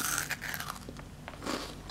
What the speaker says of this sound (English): Get a load of this crunch.